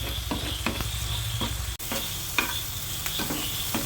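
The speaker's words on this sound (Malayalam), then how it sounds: "ഇതൊന്ന് ഇളക്കി കൊടുക്കാം" Chicken curry with blended tomato and kasuri methi being stirred in a pan, rhythmic spoon scrapes over a constant low sizzle and a brief dropout midway, no one speaking.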